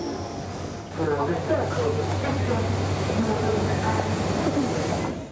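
A London Underground train passing through a station: a low rumbling roar with a steady hum and scattered rattles, building after the first second and holding at a constant loudness, with muffled voices audible beneath it.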